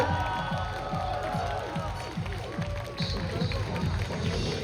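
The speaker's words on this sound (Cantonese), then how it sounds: "大聲啲掌聲、歡呼聲俾晒我哋9隊嘅不同嘅組合" An audience cheering and clapping for idol groups at a fan convention's awards ceremony, a dense continuous roar of applause and shouts with rhythmic clapping throughout.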